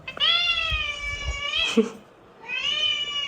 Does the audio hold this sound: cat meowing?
yes